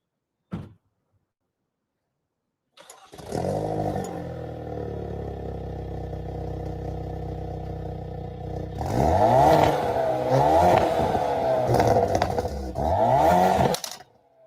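A Hyundai Kona N or Elantra N 275 hp turbocharged engine starts up and settles into a loud, steady idle rumble, then revs repeatedly in sharp rising and falling bursts before cutting off.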